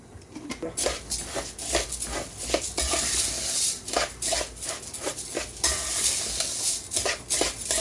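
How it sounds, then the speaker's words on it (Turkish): Vermicelli toasts in a large pot for a big batch meal while a metal spoon stirs it, giving repeated scraping and clattering strokes over a soft sizzle. "şimdi yavaş yavaş kavrulmaya başlayacak şehriyelerimiz"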